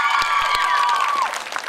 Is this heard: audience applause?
yes